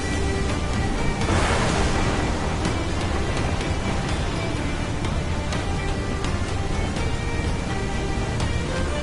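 A waterspout at sea in Assassin's Creed Black Flag gives off a loud, continuous roar of rushing wind and churning water, with a surge early on and steady turbulent noise afterwards.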